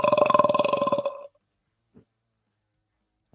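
A single long, rattling burp lasting about a second, close and fairly loud, followed by near silence with a faint short noise.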